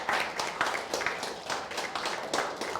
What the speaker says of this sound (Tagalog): Ang palakpak na yan